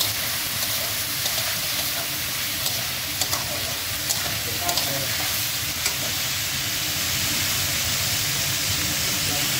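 Noodles with chopped tomato frying and being stirred in a pan, a steady broadband sizzle with occasional scraping clicks from the stirring throughout, close and moderately loud, with no talk.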